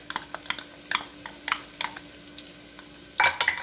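Onions, celery and carrots hit melted butter in a pan over medium-high heat, giving a soft sizzle under a run of irregular stirring clicks and scrapes, ending in a louder burst of clatter.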